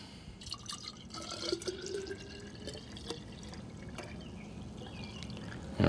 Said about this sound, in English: fill that bottle up with an equal amount of water